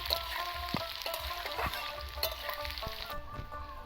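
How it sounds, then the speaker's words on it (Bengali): Whole spices sizzle in hot oil for handi chicken, a steady crackling fry with scattered sharp pops and occasional stirring clicks, fairly close and continuous without talk. "সব উপকরণগুলো ভালোভাবে ভেজে নিয়ে নেবো"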